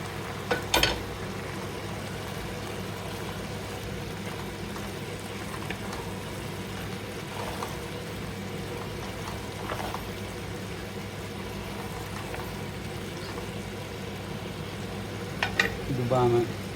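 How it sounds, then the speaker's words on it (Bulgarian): Cabbage simmering in a pot, a low steady bubbling sizzle held at an even level for a long stretch, with a few sharper clinks at the start and near the end. "Точно 1 час къкри зеленцето."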